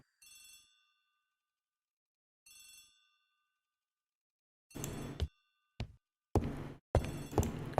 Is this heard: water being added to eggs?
no